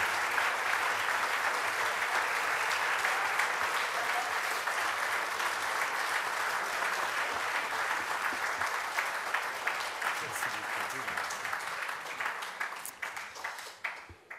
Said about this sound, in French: Ces applaudissements enthousiastes font du bien à entendre, bien sûr.